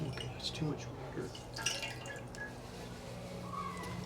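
Water drips and patters faintly from a shop towel being squeezed out over a printmaking workspace, a few scattered small drops and squishes, quiet and close.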